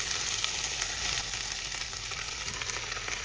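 Onion, tomatoes and mushrooms sizzling in olive oil in a small pot over medium-high heat, a steady close hiss and crackle with no talk.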